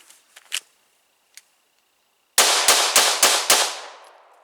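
A handgun fires during target practice drills: a few quiet clicks and handling sounds, then six loud, sharp shots in quick, even succession, each ringing out with a short echo that fades at the end.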